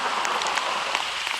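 Rain falling steadily around an umbrella outdoors, a dense continuous patter of drops close by, loud and alone.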